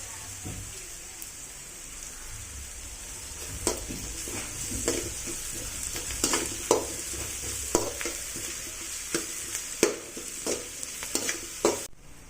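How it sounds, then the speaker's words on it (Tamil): Onions and paste frying in a pan while being stirred for a Tamil-style kudal (goat intestine) gravy, a steady crackling sizzle throughout with repeated scraping clicks of the spoon against the pan, close and clear with no talking. "வெங்காயம் போட்டு நல்லா வதக்கிறோம் ஃப்ரெண்ட்ஸ்"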